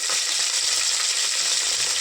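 Bright, steady sizzling of curry leaves hitting hot oil, a close crackling hiss with faint low knocks underneath.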